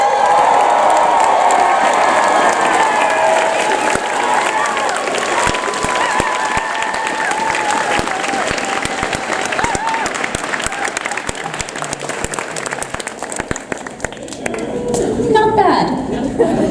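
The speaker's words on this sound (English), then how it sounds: "So on 3, just cheer and yell and sound awesome and epic." A Comic Con cosplay audience cheers, yells and claps on cue, a loud sustained roar of many voices with screams and applause filling the room, fading at the end as someone begins speaking.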